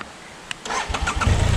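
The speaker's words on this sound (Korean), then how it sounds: "혹시 하는 마음에 다시 시동을 걸어봅니다. 시동이 걸립니다." A motorcycle on a narrow mountain road, restarted after stalling at very low RPM, cranks with a couple of clicks, then catches and settles into a loud, close, pulsing idle.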